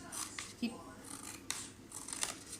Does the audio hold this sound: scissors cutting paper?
yes